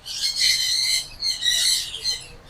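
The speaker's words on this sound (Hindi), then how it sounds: "आपको बातें भी आ रही होंगी पीछे तोतों की, यहाँ पे चिड़ियों की" Parrots and sparrows call at Lahore Zoo: shrill, raspy squawks arrive in several overlapping bursts, fairly close and loud, with no talking.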